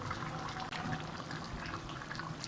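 Fish pours into simmering gravy in a pan, giving a steady close liquid wash and sizzle-like bubbling that runs continuously without a break.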